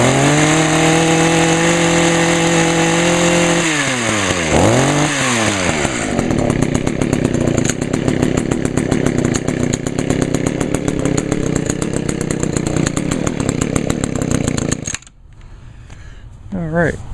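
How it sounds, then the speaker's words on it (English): An Echo HC 150 gas hedge trimmer's small two-stroke engine runs loud and close after a carburetor replacement, revving up and down before settling into a steady buzzing whine, then cutting to a lower idle. "now I got a working hedge trimmer again"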